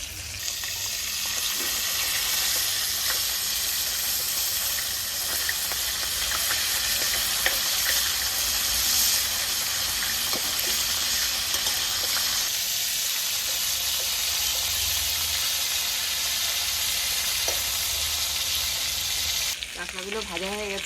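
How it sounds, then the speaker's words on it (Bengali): Crabs fry in a pan with continuous hissing sizzle, steady and close, with occasional clinks and stirring; a brief water-like splash or sizzle burst comes near the end. "কাঁকড়াগুলো ভাজা হয়ে গেছে, নামিয়ে নেব।"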